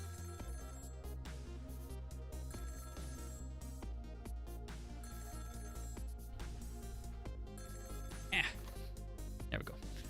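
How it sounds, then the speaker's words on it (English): A telephone rings in the video game Ghost Trick, a repeated bell-like trill layered under steady game music. "About 2 hours before dawn, the phone rang."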